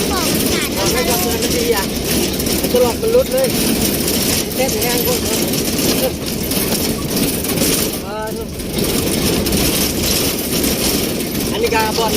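A new farm tractor engine idles with a steady low rumble that runs right through the clip, close and loud, while people talk over it.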